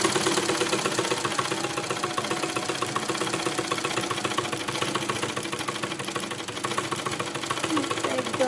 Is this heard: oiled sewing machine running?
yes